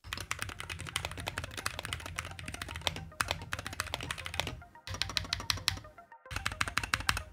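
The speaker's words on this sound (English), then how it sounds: "the Fan 60 is a good keyboard. It feels nice to play on and even better to type." Rapid, steady typing on a Fan 60 mechanical keyboard, close and crisp, a dense stream of key clicks and clacks with a few brief pauses, no talking.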